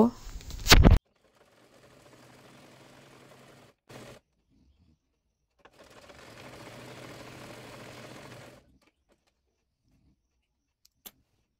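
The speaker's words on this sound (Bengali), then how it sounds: "অপর পাশের সাইডটিও সেলাই করে নেব। এরপর নিচের অংশ মুড়িয়ে সেলাই করে নেব।" A sewing machine runs in two bursts while stitching the side seams and hem of a baby frock, with a steady mechanical whir that is fairly quiet and close, separated by pauses and a few clicks.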